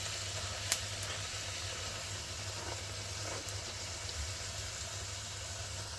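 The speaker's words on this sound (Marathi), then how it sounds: "असं प्रत्येक बाजूने मी तिला फ्राय करून घेणार आहे छान." Food pan-frying in hot oil and turned side to side with a stick in a home kitchen, a steady soft sizzle running throughout beneath low background hum, with a brief sharp click near the start.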